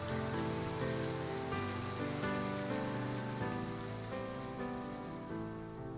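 Steady rain downpour in the video game Love and Deepspace, a dense, even hiss of drops pattering on surfaces, loud and continuous throughout with no voices.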